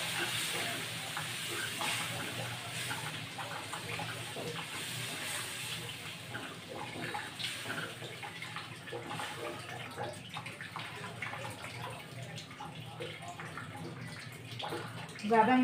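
Water is poured little by little into semolina roasting in a pan for suji halwa, giving a continuous hissing, sizzling wash of sound at moderate level throughout.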